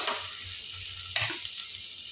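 Onions for Hakka noodles fry in a pan with a steady, close hiss, and a single sharp clink of a utensil against the pan comes about halfway through.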